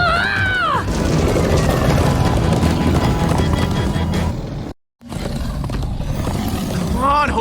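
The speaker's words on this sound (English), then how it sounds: "Come on, horses!" Horses gallop hard in Minecraft Story Mode, a loud rolling drum of hooves with whinnies at the start and end, broken by a brief dead-silent cut midway.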